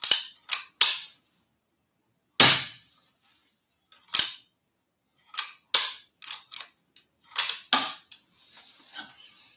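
A Weihrauch HW100 air rifle with a silencer fitted fires a series of separate, sharp, snappy shots at irregular intervals, each short and crisp with silence in between, followed by a few fainter mechanical clicks.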